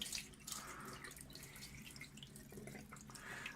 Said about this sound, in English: now I just use the water, tap water, lukewarm tap water, to rinse the mirror